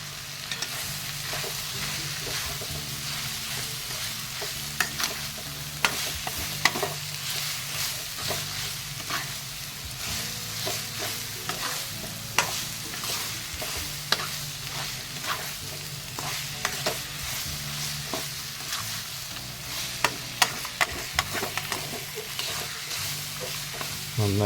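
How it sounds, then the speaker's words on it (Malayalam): Chopped onions sauté with salt in a pan for a Kerala-style country chicken dry roast, hissing in a steady sizzle while a spoon scrapes and stirs in frequent sharp clicks throughout. "ഉള്ളി ഒന്ന് വഴണ്ട് വരുവാനായിട്ട് കുറച്ച് ഉപ്പ് ചേർത്ത് കൊടുക്കാം"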